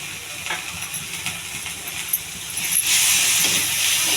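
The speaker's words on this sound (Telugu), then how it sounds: "ఇవి బాగా వేగే వరకు వేగించుకోవాలండి" Tomatoes, salt and seasonings fry in a pan for upma, a soft steady sizzle and hiss that swells louder toward the end, with no talking.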